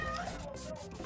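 A cat meows amid a busy home scene, its short cries mixed in with people talking nearby.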